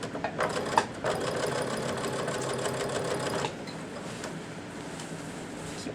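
A sewing machine stitching a sleeve seam runs close by with a steady, fast mechanical whir and needle chatter for about three seconds, then stops, leaving a quieter room tone. No one speaks.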